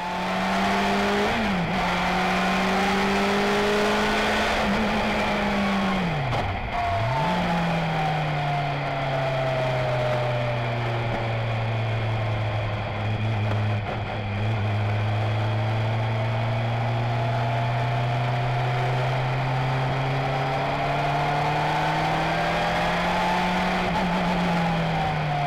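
A race car on a track during a passenger ride pulls hard at speed, its engine a loud, steady high-revving whine that dips sharply at quick gear changes before climbing again, with constant road and wind roar underneath.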